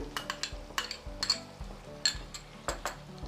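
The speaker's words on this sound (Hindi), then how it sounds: "इसमें बराबर चम्मच चलाते रहें, नहीं तो क्या होगा कि मसाला जो है वो लगने लगेगा।" A spoon scrapes and knocks repeatedly around a pan of kadhai chicken masala, a close series of uneven metallic clinks and scrapes over a soft background sizzle.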